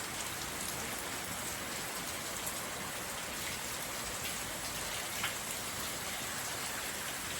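Heavy monsoon rain pours down steadily in a dense, even hiss on a farm in the evening, with no break or voices.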